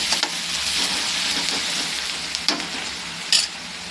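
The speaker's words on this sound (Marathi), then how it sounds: "व्यवस्थित कांदा फ्राय होऊन द्यायचा आहे" Onion frying in oil with a pinch of asafoetida, cooked for khichadi, gives a steady close sizzle with a few louder spatters or stirring clicks. No one speaks.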